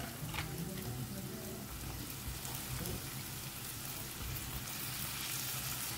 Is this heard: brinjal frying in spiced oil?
yes